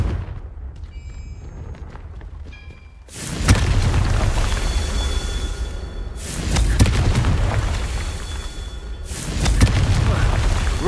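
Fiery Confringo spell blasts from Hogwarts Legacy, three deep booming explosions erupting in turn with long rumbling tails, loud and close, each swelling from a lower background of game ambience.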